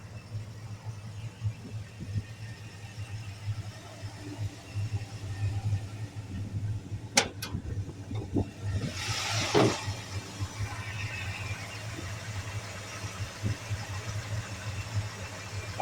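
Vintage Mopar car engines idle in a steady low, even rumble at moderate distance, with a few brief clanks and a short hiss partway through.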